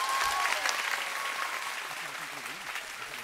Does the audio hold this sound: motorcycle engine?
no